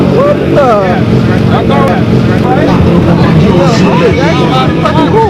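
Loud car engine at a cars and coffee meet, roaring and revving with rising and falling pitch as it does donuts and burnouts, close and constant, with people talking over it.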